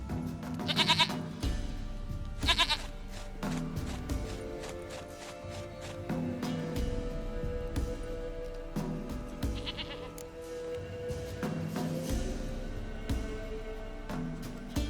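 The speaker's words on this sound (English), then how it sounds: "Goat of mine, dearest, sweetest goat." A goat bleats repeatedly in The Witcher 3, short wavering cries that recur every few seconds, close and clear over ambient game sounds and soft hoof-like clops.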